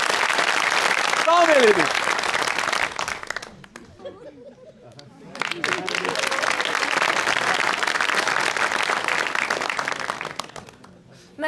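Studio audience applause on a comedy show rises in two loud bursts, separated by a quieter gap where a voice speaks.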